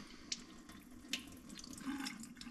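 Water runs from a tap onto a hemp grow mat, a steady, close pour with a couple of sharper splashes.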